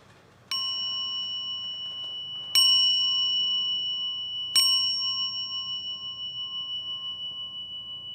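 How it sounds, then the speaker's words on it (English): A meditation chime struck three times, about two seconds apart, to open a centering meditation in a church service. Each strike leaves a bright, sustained ringing tone that overlaps the next and slowly fades, with no talking. "Let's begin our centering by listening to our chime."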